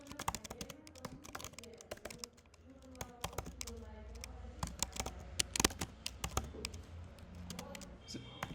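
Computer keyboard typing of code, an irregular run of close, crisp key clicks and clacks with some louder keystrokes, continuing steadily throughout.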